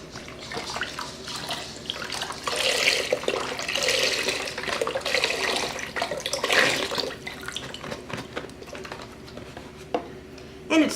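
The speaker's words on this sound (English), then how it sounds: "Now I'll open up my container of vegetable broth. I'll pour that in." Vegetable broth pours from a container into a crock pot in a home kitchen, a continuous splashing gurgle that swells and fades over several seconds, close by.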